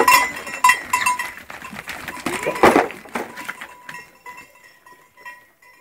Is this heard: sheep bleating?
yes